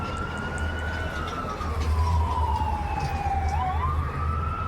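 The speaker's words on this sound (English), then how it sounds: "I can't miss not one of these goddamn sirens" A wailing emergency siren sweeps up and down continuously over steady traffic rumble, loud and fairly close, with no talking.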